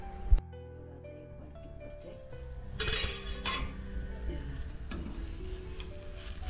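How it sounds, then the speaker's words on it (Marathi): A metal lid set back onto a cooking pan while chila, a chana dal, cabbage and tomato pancake, cooks, giving a sharp clink at the start followed by faint kitchen clatter and scraping. "परत झाकणं मारून ठेवते."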